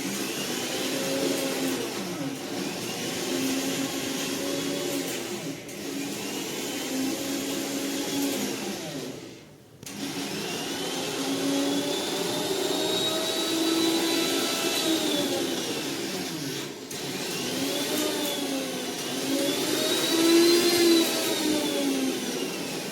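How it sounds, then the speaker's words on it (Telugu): A kitchen mixer grinder runs steadily and loudly for about twenty seconds, its motor whine rising and falling with brief dips where it pauses, during preparation of a bitter gourd fry. "మళ్ళీ మిక్సీ కూడా మనము స్విచ్ ఆఫ్ చేసేసి ప్లగ్ కూడా తీసేయాలి"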